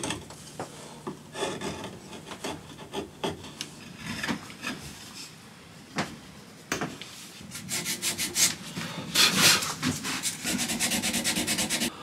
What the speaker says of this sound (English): So just these little bits down here to clear off. I'll do that with a chisel